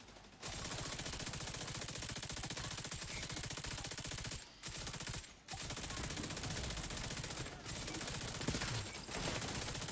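Sustained automatic gunfire from The Division 2 rattles almost without pause for about ten seconds, loud and dense, broken only by a couple of brief gaps between bursts.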